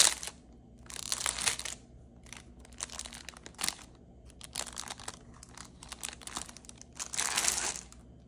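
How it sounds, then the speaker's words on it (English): Plastic packaging around a Yuruliku stationery case crinkles and crackles in several bursts during unboxing, close and fairly quiet, with short pauses between handlings. "I'm going to try to speed through this crinkle as well."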